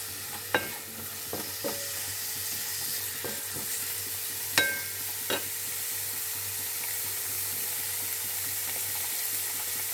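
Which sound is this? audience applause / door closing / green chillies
green chillies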